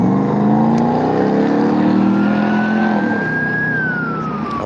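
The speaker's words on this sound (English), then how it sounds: "some lights and sirens going on" A police car siren wails through a big city at night, a loud steady engine and traffic roar beneath a rising and falling tone that slowly shifts pitch as the vehicle passes.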